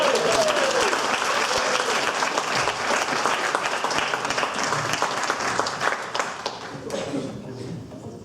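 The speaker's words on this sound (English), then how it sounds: "And another round of applause" A round of applause at a casual Oscars-night party, a loud, dense burst of clapping that gradually tapers off, with a voice briefly audible over it.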